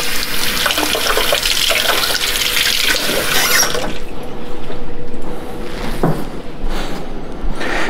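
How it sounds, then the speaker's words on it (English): Running kitchen tap splashing loudly as a cheese grater is rinsed in the sink, the water stream changing tone midway as the grater is moved under it, with a brief clunk near the end. "Drop my cheese grater, so I have to give this guy a wash real quick."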